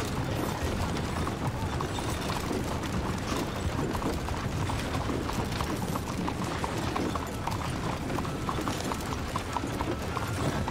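Horse hooves clip-clop steadily while riding in Red Dead Redemption 2, a continuous rapid run of close hoofbeats over game ambience with no talking.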